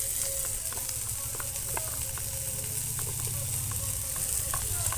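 Onion, chopped ginger and spices fry in a pan with a steady close sizzle and scattered crackles and pops, the stir-fry sound continuous and even throughout, with faint speech in the background.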